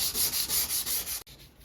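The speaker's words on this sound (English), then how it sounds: "just sand it down" Sandpaper rubbed back and forth over a steel handsaw blade during restoration, a close, loud, rhythmic scratchy rasp of about six strokes that stops abruptly, leaving a faint hiss.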